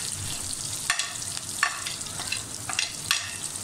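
Onions fry in a pot with whole garam masala and salt for beef white biryani, giving a constant crackling sizzle up close, punctuated by several rhythmic spoon stirs and scrapes, with no speech.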